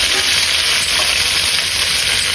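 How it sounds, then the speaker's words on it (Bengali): Cauliflower pieces frying in hot oil, a loud, dense, continuous sizzle heard up close, a steady hiss with no voices over it. "ফুলকপিগুলো ভেজে নিব।"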